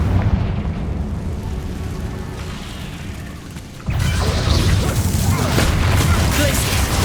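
The Confringo fire spell in the Hogwarts Legacy video game sets off a loud, rumbling, crackling blast that jumps up suddenly midway and stays dense and roaring, layered over steady game background noise.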